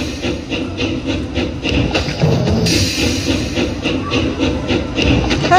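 A train sound effect in a Zeus-themed slot machine game plays as a dense, steady hiss and rumble with faint rhythmic clatter, continuous and fairly loud throughout.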